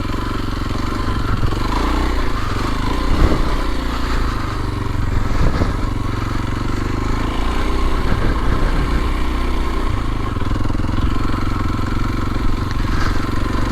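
Kawasaki KLX230SE dual sport motorcycle ridden off-road over loose, washboard ground, its single engine droning steadily and close with clattering bumps and wind rumble throughout.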